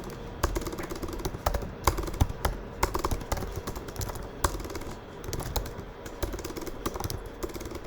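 Fast typing on a computer keyboard during a coding session, with steady close clicks and occasional heavier keystrokes continuing without pause.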